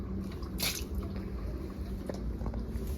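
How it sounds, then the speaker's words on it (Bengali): Water draining off fried Manchurian balls in a home kitchen, heard as a steady wet trickle and drip with a brief splashy squish near the start, close and moderately loud, no talking. "এই জলটা থাকলে মাঞ্চুরিয়ানটা ভালো হবে না। জলটা আমি ফেলে দেবো"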